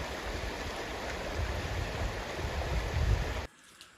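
Rushing water of the Saxton River where its south branch joins the main stream beside the Kidder Hill covered bridge in Grafton, Vermont, a steady broadband flow that cuts off abruptly near the end.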